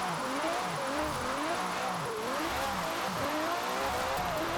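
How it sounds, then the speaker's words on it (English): A race car engine revving and dropping repeatedly as it drifts, with wavering throttle pitch rising and falling in quick swells, steady and fairly close with a constant high whine above, no talking. "I'm trying to drift a race car here."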